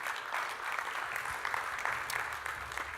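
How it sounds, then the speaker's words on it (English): Thin, sparse clapping from a smallish audience at a beef feedlot industry event, quiet and scattered, with individual claps standing out rather than forming a full ovation. "That was a very weak round of applause, people."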